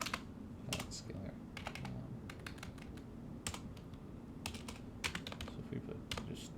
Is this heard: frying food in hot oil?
no